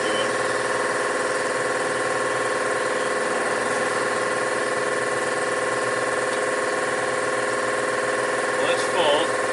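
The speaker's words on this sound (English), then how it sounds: "Maybe I'll wait till the compressor shuts down." An air compressor runs continuously at a home while truck tires are changed, a steady droning hum with a strong tonal whine and no change in rhythm; a brief clatter comes near the end.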